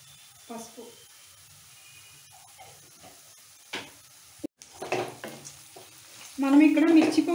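Onions frying with salt for a coconut and chana dal dish, stirred in a pan: faint sizzle and scattered spatula scrapes and taps, with a person talking over it and a louder burst of clatter at the end.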